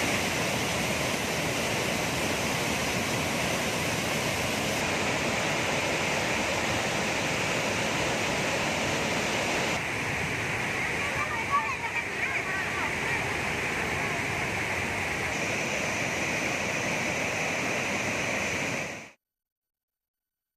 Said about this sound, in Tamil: இதன் காரணமாக திற்பரப்பு அருவியில் வெள்ளப்பெருக்கு ஏற்பட்டுள்ளது.